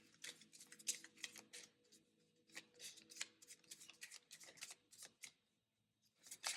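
Tarot cards are shuffled and drawn in quick, crisp riffling bursts of flicks and snaps. The bursts are close and fairly quiet, with no talking and short pauses between them.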